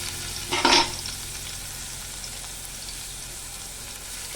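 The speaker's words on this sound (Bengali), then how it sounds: "এবার আমি রসুনটাকে কিছুক্ষণ ভেজে নেব" Chopped garlic dropped into hot oil for a taro-stolon and shrimp dish gives a short, loud burst of sizzle, then settles into a steady, soft frying hiss that continues alone.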